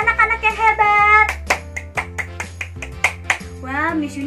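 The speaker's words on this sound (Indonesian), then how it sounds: "Tepuk tangan untuk anak-anak yang hebat." A handful of crisp, close claps in a quick uneven rhythm for children in an online kindergarten English lesson, with a voice speaking before and after.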